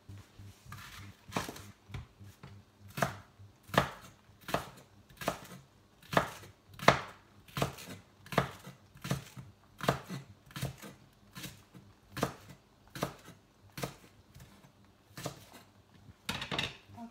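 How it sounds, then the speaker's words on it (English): Regular knife strokes chopping onions on a board, about twenty crisp close thuds in a steady rhythm, with brief pauses between runs. "I'm going to cut some onions"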